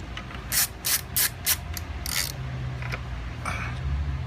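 Socket cap screws being tightened with a ratchet while fitting highway pegs to a Kawasaki Concours 14 GTR 1400 motorcycle: a close series of four quick ratcheting clicks, then a longer burst, with a brief faint click afterward and no talk.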